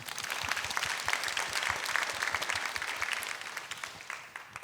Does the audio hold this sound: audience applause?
yes